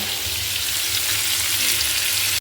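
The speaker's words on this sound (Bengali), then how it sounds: "আলুটাকে ভাজছি ভালো করে" Potatoes fry in hot oil in a home kitchen pan, giving a steady, close, even sizzle with no talking.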